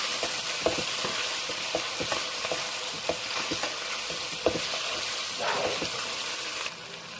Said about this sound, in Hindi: मटन को अच्छी तरह भूनना है